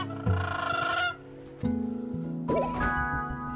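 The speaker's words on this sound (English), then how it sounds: "The player's bird sings to the wild creatures to charm them." A bird character in the video game Flock sings to wild creatures to charm them, with a few tonal, honking, clucking calls in three bursts, close and clear, without speech.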